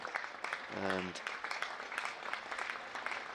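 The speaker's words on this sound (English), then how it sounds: "Vacant area, and that's 400 up for Essex. That's what the applause is." Spectators at an Essex v Kent county cricket match applaud as Essex reach 400, a soft, scattered patter of clapping from a distant crowd under a commentator's voice.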